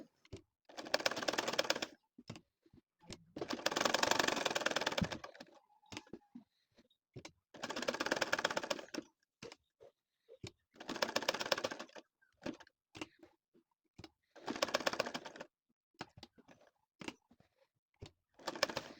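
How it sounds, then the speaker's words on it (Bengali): A domestic sewing machine stitches a quilt (kantha) in repeated bursts of several seconds each, separated by short pauses and light handling noises, fairly close and clear with no talking. "ঘুরিয়ে ঘুরিয়ে শুধু সেলাইটা করেই যাব"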